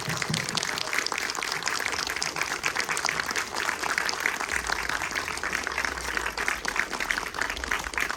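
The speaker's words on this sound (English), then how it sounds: "give our volunteers a big round of applause" An audience claps for volunteers at a film world premiere event, a dense, sustained round of applause from many hands, moderately distant and even in level throughout.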